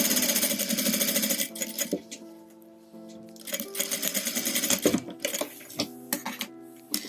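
A sewing machine stitches strips of fabric scrap, running in loud rapid bursts separated by short pauses, with a rhythmic mechanical whir and tapping close up and no talking.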